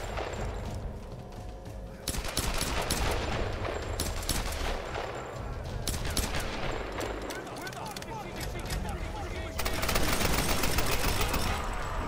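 Gunfire aimed at the player in a video game: sustained heavy bursts of rapid shooting and blasts, loud and near, with surges that intensify partway through and again near the end, and a voice mixed in.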